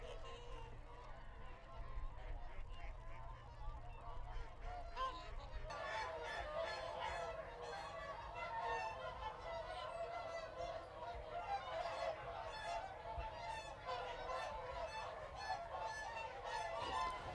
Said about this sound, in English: We do have a swan called the Wanderer